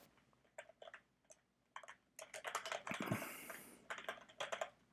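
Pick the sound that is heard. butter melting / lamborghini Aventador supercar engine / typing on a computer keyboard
typing on a computer keyboard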